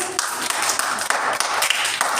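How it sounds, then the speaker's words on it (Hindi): Children in a classroom clap together during storytelling, a quick steady run of hand claps at close range, fairly loud and even throughout. "ताली बजाओ फिर।"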